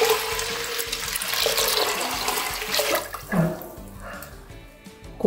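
Water runs from a tap and is poured into a pressure cooker over washed, drained hominy as white canjica is prepared. A steady, loud pouring rush fills the first three seconds, then thins into softer splashes and trickles.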